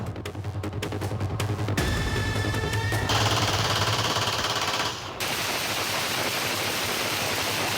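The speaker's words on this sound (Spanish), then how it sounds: "Con una ráfaga de disparos imponen su autoridad." Rapid automatic gunfire bursts from criminal gang members, loud and dense, with a sharp rattling train of shots giving way to sustained crackling noise-like fire, no voices present.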